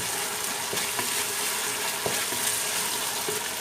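Egg bread chilli with soy sauce sizzles in a hot pan, a constant near frying hiss broken by a few sharp scraping strokes of stirring, with no voices.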